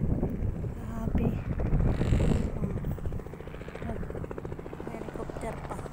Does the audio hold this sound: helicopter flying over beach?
yes